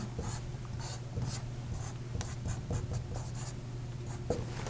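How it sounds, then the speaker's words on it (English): Pen or marker scratching out notes during a chemistry lesson on alcohol elimination reactions, a steady run of short strokes and taps over a low electrical hum, close and alone with no talking. "let me first write that down"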